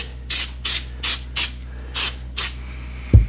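Short bursts of aerosol spray hiss onto a towel while building a Klingon Bird of Prey model, about seven quick squirts in an uneven rhythm, close by, followed by a soft thump.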